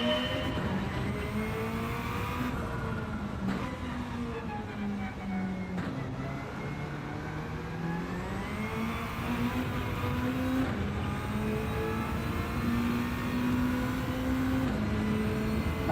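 A race car engine in Gran Turismo 7 drones steadily at high revs, its pitch rising and falling through gear changes and throttle shifts, loud and continuous throughout.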